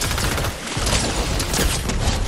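A goo gun fires continuously in Fortnite, a dense, loud, sustained wash of wet bursts that barely pauses once for a moment, with no talk.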